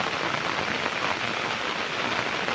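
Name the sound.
rain falling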